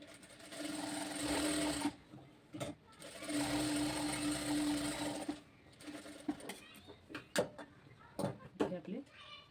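A sewing machine stitches a princess-cut size 32 blouse in steady whirring bursts, pausing and restarting, with a voice talking in between runs.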